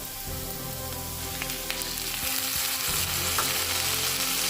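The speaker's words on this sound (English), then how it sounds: "We will fry everything for another 3 to 4 minutes till the tomatoes become slightly soft." Chopped tomatoes with onions frying in a pan for paneer butter masala, a loud continuous sizzle close by with brief scrapes of stirring partway through, no voices.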